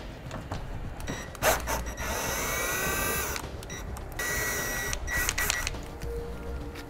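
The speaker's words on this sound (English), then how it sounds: "I'm gonna use a T15 Torx bit to pull those out." A power driver with a T15 Torx bit whirs in bursts while backing out bumper bolts during a trailer hitch install on a 2019 Chevrolet, several close mechanical runs separated by brief pauses.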